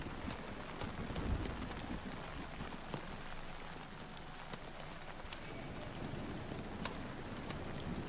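Hail falls continuously in the game Nightingale, a soft steady hiss scattered with sharp little ticks as stones strike the ground. It stays fairly faint throughout, with no one speaking.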